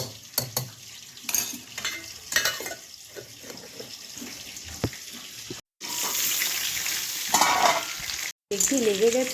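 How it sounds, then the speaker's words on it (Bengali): Fish sizzles and spits in hot oil, with occasional clatters and stirring noises, the frying hiss steady and moderately close. "মাছ ভাজাটা হয়ে গেছে উল্টে দিতে হবে"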